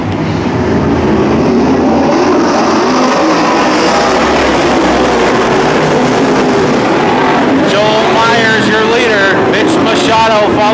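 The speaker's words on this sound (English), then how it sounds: "Eleven cars to take the green flag." A field of dirt modified race cars roars off the green flag start at Petaluma Speedway. Loud, continuous engine noise fills the whole stretch, with an announcer calling the race over it.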